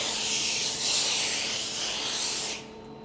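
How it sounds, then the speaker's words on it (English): A Laurastar steam iron hisses loudly and steadily as it blows steam over silk, then cuts off abruptly near the end. "that steam alone is going to be powerful enough just to hover over that silk"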